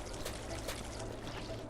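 Water sloshing and pouring in a bucket in the video game Viscera Cleanup Detail, a steady, soft, continuous splashing throughout.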